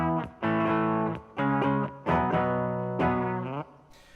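An electric guitar played through amp modelling of a Vox AC30 set to crunch rings out in four sustained, mildly driven notes or chords, each separated by a brief gap, heard alone and fairly quiet.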